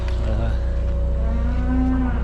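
A cow moos in a long, low drawn-out call, close by, with farm background noise and other cattle faintly lowing.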